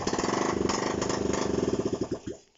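A Honda CB125 RS motorcycle engine putters briefly after a kickstart, a rapid even chugging that holds for about two seconds before slowing, sputtering and dying into silence, close and fairly loud.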